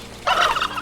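A single short, loud gobble from a nearby turkey rings out after a moment of quiet.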